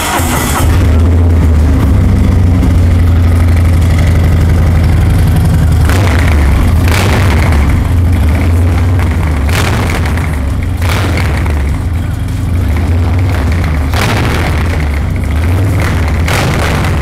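A Harley-Davidson Road Glide M8 motorcycle with an aftermarket exhaust idles with a deep, loud throb, then revs in several sharp bursts, without talk.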